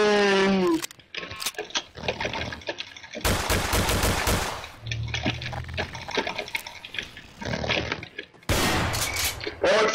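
Rapid bursts of gunfire in the sandbox game Garry's Mod, loud and dense in two main volleys, with voices talking and other game sounds in between.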